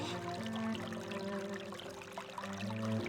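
Shower faucet water pouring steadily for a few seconds, a close, continuous splashing stream with no voices over it.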